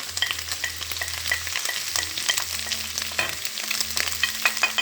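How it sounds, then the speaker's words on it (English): Chopped garlic sizzles in a frying pan with a bright, steady hiss while a utensil scrapes and knocks through it in irregular strokes, close up with no voices. "I'm going to go ahead and put the garlic in here"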